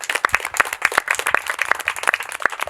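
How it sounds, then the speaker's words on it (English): Applause from a community meeting audience on sexual health education, a fairly sparse patter of individual claps, close and distinct, steady for a few seconds. "let's have a round of applause for those"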